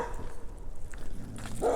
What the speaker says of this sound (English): right past the cute cat, big dog, he's okay.